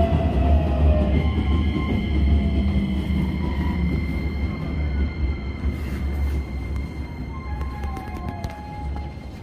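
A Hokuso Line train rumbles steadily into Shin-Kamagaya station on an elevated track, with a continuous low roar, faint high whine and brake squeal tones, heard up close without talk.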